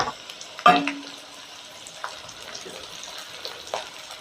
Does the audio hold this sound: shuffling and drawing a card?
no